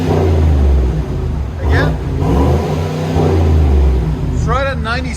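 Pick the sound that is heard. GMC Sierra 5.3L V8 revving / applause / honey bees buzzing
GMC Sierra 5.3L V8 revving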